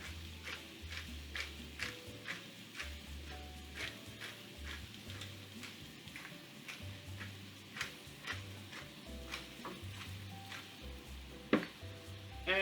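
Potatoes fry in a pan for German potato salad, sizzling softly and steadily, with repeated light ticks and scrapes as they are stirred and seasoned, with no talking.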